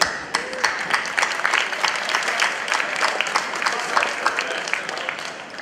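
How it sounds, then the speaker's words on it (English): Conference audience applauding finalists at an annual event in Belgrade, steady rapid clapping from a mid-sized room, moderately loud and continuous. "give yourselves a big round of applause for making it to the finals"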